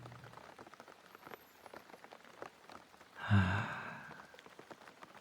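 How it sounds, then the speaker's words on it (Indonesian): Rain falls outside in a faint, steady patter behind a quiet indoor scene, broken midway by a soft close breath or sigh. "Mana di luar hujan juga kan."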